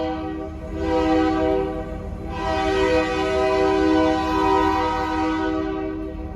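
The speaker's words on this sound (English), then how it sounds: "let's this train go by here" A train rumbles past close by, its horn blaring in long sustained tones over the steady roar of the cars.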